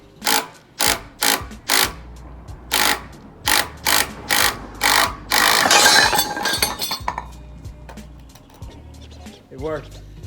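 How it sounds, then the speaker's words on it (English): A socket ratchet removes a bolt while lowering the suspension on a Toyota Cressida: about ten loud, rhythmic bursts of close clicking, then a rattling handling noise and a short creak. "I'm gonna take off the bolt with the socket"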